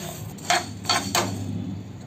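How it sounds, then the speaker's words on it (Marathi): Fenugreek seeds are dry roasted in a pan for a spicy lemon pickle, with three short, bright scraping and rattling strokes of a spoon over a quiet background. "ही मेथी दाणे पहिले आपण थोडे असे भाजून घ्यायचे आहे"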